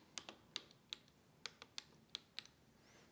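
Keys are pressed one at a time on the battery-powered keyboard of a homemade Enigma machine prop, about a dozen crisp, quiet mechanical clacks at an irregular pace, close up and with no voices.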